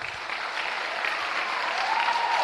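Audience applauds at a nursing pinning ceremony; dense, steady clapping from a large crowd runs throughout, rising slightly toward the end, with no talk over it.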